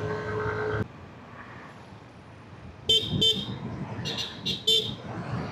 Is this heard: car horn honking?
yes